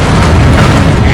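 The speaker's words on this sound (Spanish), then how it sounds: "Una explosión en supernova abrasaría la atmósfera." A loud, deep boom of a supernova explosion sound effect, a single dense blast filling the whole moment with rumbling low end and hissing upper texture, close and overwhelming with no voices.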